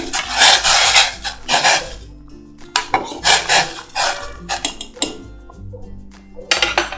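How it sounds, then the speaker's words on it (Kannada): A spoon stirs mung beans and ridge gourd in a pan, giving loud close scraping and rubbing strokes in repeated bursts with brief pauses, plus occasional light clinks of metal against the pan. "ಒಂದ್ಸಲ ಎಲ್ಲ ಚೆನ್ನಾಗಿ ಮಿಕ್ಸ್ ಮಾಡಿಬಿಡ್ತೀನಿ"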